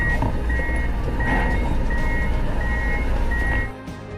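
A vehicle backs onto a ferry while a reversing alarm sounds repeated, evenly spaced high beeps over a loud, steady engine rumble that drops away near the end.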